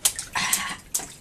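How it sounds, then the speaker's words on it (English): Baby splashing water in a sink, three quick bright splashes spaced irregularly, close and fairly loud, with no talking. "Oh, whoosh, splashing."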